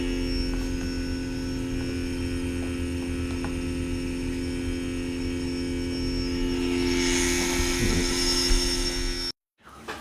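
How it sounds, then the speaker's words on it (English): A brushless tape drive motor slowly spins up, its steady whining hum and tonal drone holding level and rising in pitch before cutting off abruptly near the end. "Okay, we're looking at a brushless motor"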